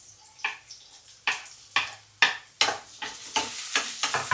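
Onion and chili sautéing in a pan sizzle under a run of sharp, repeated spatula strokes, about a dozen scraping bursts that quicken toward the end, close up with no voices.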